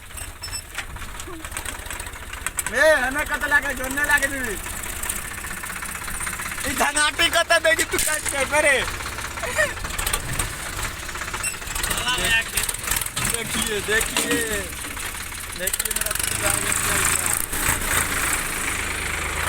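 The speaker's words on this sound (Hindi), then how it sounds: "क्या मस्ती में चला रहा है ट्रैक्टर।" A tractor engine chugs and knocks steadily throughout, up close, while several people talk and call out excitedly over it.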